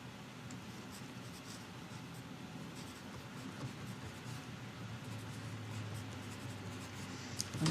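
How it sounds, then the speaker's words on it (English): A pen scratches steadily across a notebook page in a quiet classroom, a faint, continuous scribbling close to the microphone. "let's write this one in your notebook"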